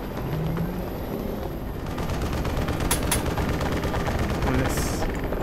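Sustained automatic gunfire from the Black Mesa video game, a dense continuous rattle of shots with a couple of sharp louder cracks, steady and fairly loud throughout.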